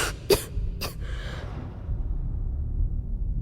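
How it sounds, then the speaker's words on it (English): Two short, sharp coughs from a character in Starfield come close together, followed by a fading breath over a low background hum. "That cough doesn't sound good at all."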